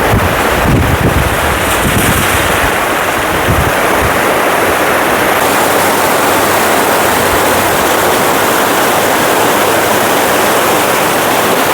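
Fast-flowing water and a waterfall rush beside the dangerous mountain road from Barkot toward Yamunotri, a steady, loud broadband roar lasting throughout with no speech, partly mixed with wind buffeting on the microphone.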